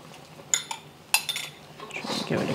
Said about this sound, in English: Try to give it a good stir.